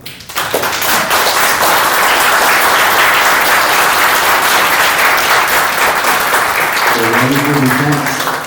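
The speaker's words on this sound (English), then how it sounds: "I think we should give him a big round of applause." Audience applause at an art talk on the Gordon Matta-Clark NYC graffiti archive, a sustained, dense wash of clapping from a room full of people, steady throughout with a voice briefly heard near the end.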